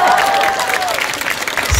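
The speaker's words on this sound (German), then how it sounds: "dann kriegst du einen super Applaus" Audience applause at an Andy Borg live show in Gondelsheim, a loud dense burst of many hands clapping with a brief sustained tone early on and crowd noise mixed in.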